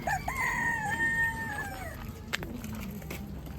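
Chickens cluck and a rooster gives a brief crow at a pigeon and animal market, faint and somewhat distant over low outdoor background noise.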